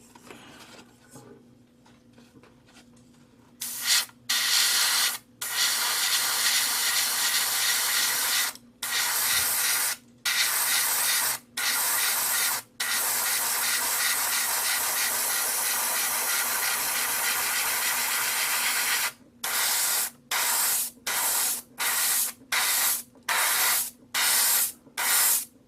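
Airbrush spraying, powered by an AIRGOO AG-426 compressor: a loud, steady hiss that cuts in and out, with long continuous sprays and a fast series of short bursts toward the end, near and alone.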